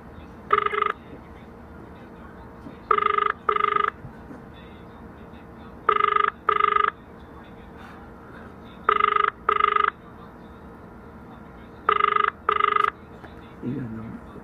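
A telephone rings during a prank call, each ring a clear double burst repeated at regular intervals five times, loud and close, with a short voice at the end.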